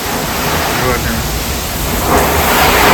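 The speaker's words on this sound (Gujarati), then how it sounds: "બધો પવન પવન પવન ને જોવો તમે" Heavy unseasonal rain with strong wind battering around a house: a dense, loud rushing roar of rain and gusts that swells toward the end, with no clear words over it.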